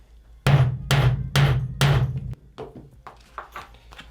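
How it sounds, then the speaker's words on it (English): Leather snap hardware hammered on a wooden table, four loud, evenly spaced hammer blows with a resonant wooden thump, followed by several lighter taps. "Sounds like I'm hitting harder than it is just because of this wooden table."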